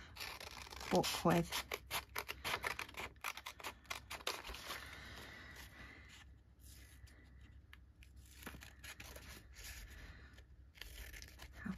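Scissors snip through dictionary pages close up, with repeated short crisp cuts and rustles that are strongest early on and thin out later, while someone talks quietly in the background.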